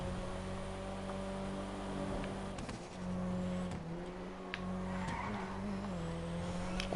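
An Elegy sports car in GTA 5 Online driving with a steady engine drone and brief tire squeals, heard alone without talk over the seven seconds.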